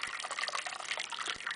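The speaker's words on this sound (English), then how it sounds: "pour hot water from another direction" Hot water pouring over small waxed yarn balls, a steady splashing gush that runs unbroken for under two seconds, close and moderately loud with no voices.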